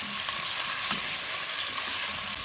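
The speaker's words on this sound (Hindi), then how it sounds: "मीडियम फ्लेम पर हम इसको फ्राई करेंगे।" Washed chicken frying in a pan over a medium flame for white chicken biryani, a dense, even sizzle with faint stirring clatter, close and steady with no voices.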